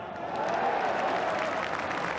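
Stoke City's home football crowd bursts into loud, sustained applause, a dense wash of clapping that swells and holds across the stands.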